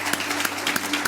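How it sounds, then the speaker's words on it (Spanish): Church congregation applauding during a worship service, a steady patter of many hands clapping in a short burst with faint voices underneath. "Le podemos dar un aplauso fuerte a nuestro Señor."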